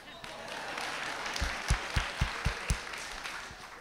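Brief audience applause at a writers' series author talk, a scattered patter of claps that swells with a few sharper hits midway and then thins out.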